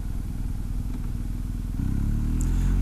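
A Harley-Davidson motorcycle's V-twin rumbles along the road nearby, its loping engine note steady and then thickening as it passes, heard from inside a moving vehicle.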